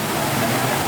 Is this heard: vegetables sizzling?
no